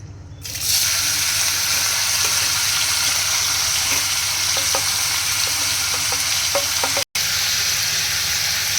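Masala prawn ingredients fry in a little hot oil in a heated kadhai, giving a steady, close sizzling hiss with occasional stirring clinks and scrapes, broken by a brief gap near the end.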